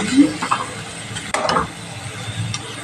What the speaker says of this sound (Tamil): நல்லா வதக்கி விடுங்க ஒரு கலரு மாறுற அளவுக்கு நல்லா வதக்கிறது